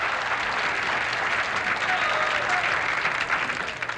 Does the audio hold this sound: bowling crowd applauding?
yes